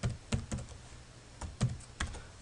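Typing on a computer keyboard while entering code, a handful of soft, close keystrokes in short irregular bursts.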